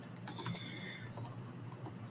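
Code typed on a computer keyboard: quick, close clusters of light key clicks in an uneven rhythm, fairly quiet against a faint room hum.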